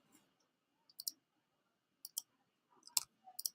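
A few sharp, quiet computer mouse clicks in small clusters, made while dragging files around in Google Drive, with silence between them.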